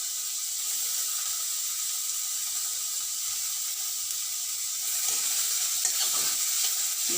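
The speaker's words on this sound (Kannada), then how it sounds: "ಇದು ಹಸಿ ವಾಸನೆ ಹೋಗೋ ತನಕ ಹುರಿಬೇಕು" Small beetroot frying in a pan for beetroot kheer, a steady, close sizzle with soft stirring scrapes over a medium flame, continuous throughout with no voices.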